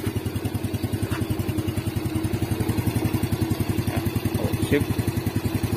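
A motorcycle engine idles smoothly and steadily after a camshaft repair, a loud, even, rapid putter running throughout, with someone speaking briefly over it.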